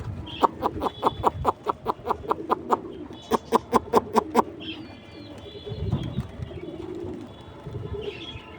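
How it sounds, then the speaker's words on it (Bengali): Pigeons close by give a quick, rhythmic run of sharp calls, then a second burst, followed by softer, low cooing. "আরও দুই জোড়া কবুতর আছে ওরা হাতে আসে"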